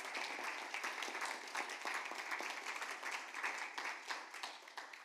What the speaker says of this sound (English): applause to John